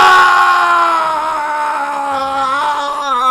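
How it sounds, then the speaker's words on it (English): A drawn-out, wavering scream from the Phoenix Wright: Ace Attorney video game rings loud and alone, its pitch sliding and quivering for about three seconds. "I've heard that scream before"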